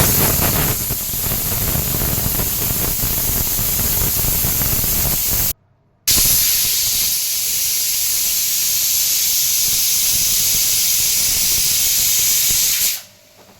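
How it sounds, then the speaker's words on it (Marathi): Pressure cooker on a stove cooking banana flower vegetable, releasing steam in a loud, steady, continuous hiss. The hiss cuts out briefly partway through, resumes at full strength, then stops abruptly near the end. "तर 2 ते 3 शिट्ट्या आपण आता इथे करून घ्यायच्या आहेत।"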